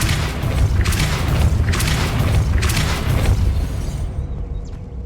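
The Depulso spell from the video game Hogwarts Legacy lands as a loud, dense booming blast with rolling rumble and several surging swells. It fades out abruptly near the end.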